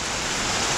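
Moderate rain falling outdoors during a storm, a dense, even hiss of drops with no voices over it.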